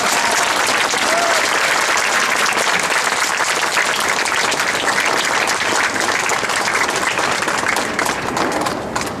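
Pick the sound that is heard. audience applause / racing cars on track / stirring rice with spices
audience applause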